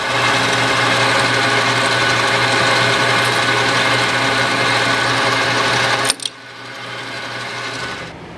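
A lathe cuts a groove into a plastic syringe, a steady mechanical whir with a constant hum that runs loud for about six seconds, then drops off abruptly with a brief clatter as the machine winds down.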